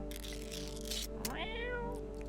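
A cat meows in the video game No, I'm Not a Human: one clear, rising-then-falling meow over a steady low game hum and background music, with no talking.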